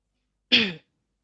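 A single short, sharp cough close to the mic, isolated in silence.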